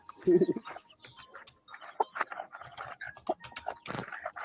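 Chickens squabble as one hen sorts out another, with a burst of low clucking at the start followed by scattered short squawks and calls, moderately loud and close.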